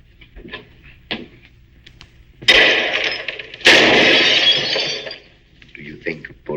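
Gunfire in a 1948 film: two loud, sustained blasts with a harsh ringing crash, separated by a short gap, with brief spoken words around them.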